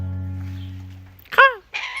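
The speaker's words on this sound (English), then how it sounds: "Before we got Russell, I didn't know that crows could be affectionate." A crow gives two sharp, raspy caws close by, following a low steady hum.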